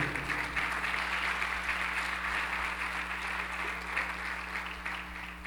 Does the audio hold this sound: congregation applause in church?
yes